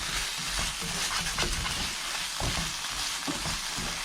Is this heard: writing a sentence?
no